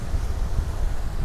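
Wind buffets and waves wash around a Lagoon catamaran sailing under code zero in about 20 knots of breeze, a loud, steady roar with choppy low surges.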